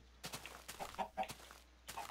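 A chicken clucking in the video game Yogbox, a series of short, choppy clucks in uneven bursts with brief pauses between them, close and fairly quiet.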